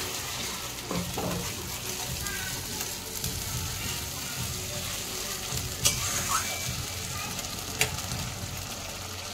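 Onion, ginger, garlic and chili paste fries in a pan with a steady broad sizzle, broken by a few sharp clicks and scrapes of stirring near the middle and end.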